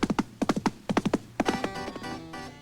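Hooves from a single horse clip-clopping in quick uneven bursts, sharp close knocks that settle into a steadier ringing patter toward the end, with no voices.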